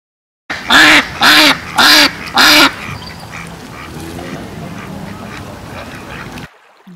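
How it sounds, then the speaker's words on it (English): Four loud, evenly spaced duck quacks up close, followed by a few seconds of low background noise with faint distant calls. "Duck."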